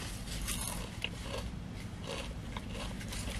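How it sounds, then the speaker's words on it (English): Close, crunchy chewing of crisp Burger King food, with repeated crackling bites and munching over a few seconds. "Listen to how crunchy."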